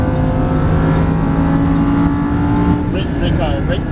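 Lamborghini Huracan LP610-4 engine pulling hard on a racetrack after an upshift, a loud, continuous close-up roar that shifts pitch near the end as a voice faintly comes in over it.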